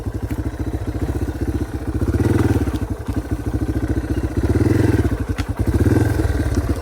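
A dirt bike rides a trail after rain. Its engine gives a loud, close, rapid pulsing chug that swells to a throatier roar under throttle and then eases back, with no voices heard.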